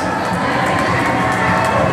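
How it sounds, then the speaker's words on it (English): A dense, continuous wash of audience applause and cheering at a barber education event, blended together, loud and steady throughout with no clear breaks. "Give them some applause."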